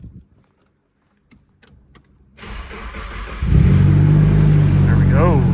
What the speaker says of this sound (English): This makes a lot of sounds too when it fires up.